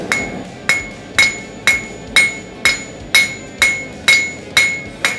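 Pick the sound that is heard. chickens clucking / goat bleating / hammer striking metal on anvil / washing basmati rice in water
hammer striking metal on anvil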